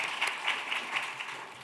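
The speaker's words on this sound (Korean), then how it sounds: "우리 하나님께 영광의 박수로 올려드리겠습니다" A congregation at a church youth service breaks into steady, dense applause, a sustained wash of many hands clapping together that carries on evenly throughout without any talking.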